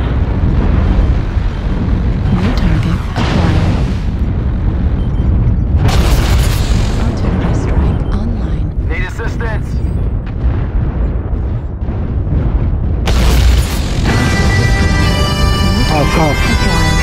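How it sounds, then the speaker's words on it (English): Repeated heavy booms and rumbling blasts from an artillery strike in the MechWarrior video game, loud and continuous, mixed with game effects and voices talking over the battle. "Artillery strike"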